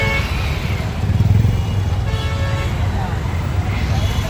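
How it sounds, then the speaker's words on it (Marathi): Busy road traffic on the way to a crowded night fair: cars, motorcycles and a bus rumble steadily close by, with several short horn toots, under people talking. "हे बघा किती ट्रॅफिक."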